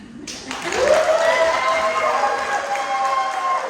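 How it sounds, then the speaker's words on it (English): Wedding guests applauding and cheering as a crowd, clapping swelling quickly and holding steady, with voices mixed in. "Let's give Alexis a round of applause, y'all"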